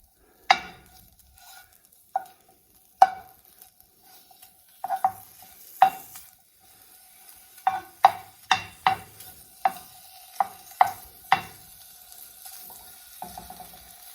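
Small pieces of beef sauté in rendered beef fat in a pan over medium-high heat, with a series of sharp scraping stirs and clacks over a soft sizzle, spaced irregularly and heard close up.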